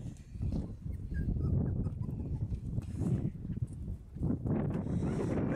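Four-week-old Texas Heeler puppies whimper and whine in a close, busy cluster of overlapping small cries, with soft rustling throughout and no clear speech.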